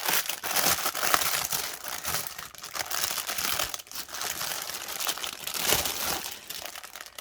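Plastic bag crinkling loudly and continuously up close as items are pulled out of it, a dense, rustling crunch with uneven bursts and no talk.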